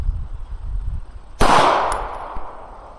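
A single loud gunshot cracks at an outdoor shooting range, sharp and close, with a short decaying echo and a faint metallic ping afterward.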